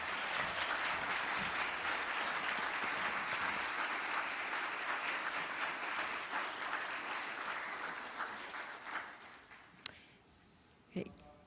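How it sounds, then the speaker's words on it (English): An audience at a youth competition award ceremony in Korea applauds the winners, a dense, even clapping that carries for several seconds, thins out and fades, leaving a couple of isolated knocks. "Let's give them all a big round of applause."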